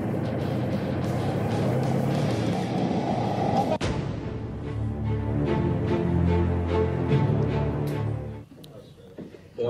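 Loud, steady engine drone and mechanical rumble inside a modern Ukrainian assault vehicle, continuous for most of the stretch with clanks and rattles, then dropping away abruptly near the end.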